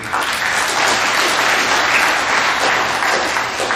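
Middle school awards assembly audience applauding, a dense, steady wash of many hands clapping at once, loud and continuous for the whole stretch.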